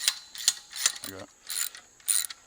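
A pulley rope hoisting a hunting tree stand into a tree, with repeated squeaky ratcheting pulls in short bursts at close range.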